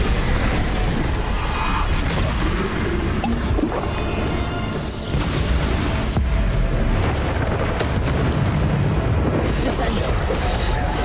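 The Bombarda explosion spell in Hogwarts Legacy goes off amid dense, continuous game noise, with booming bursts and crunchy impacts layered into a loud, sustained roar.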